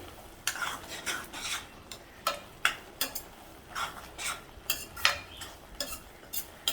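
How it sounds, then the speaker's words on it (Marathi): Fenugreek leaves and green peas sautéed in a pan over a medium flame, with repeated scraping strokes of a spatula arriving in an uneven rhythm every half second or so, close and moderately soft, with no voices. "आता पुन्हा मी एक ते दोन मिनटं अशीच मीडियम फ्लेमवर ही भाजी परतून घेते"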